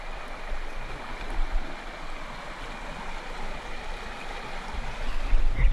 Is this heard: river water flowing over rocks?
yes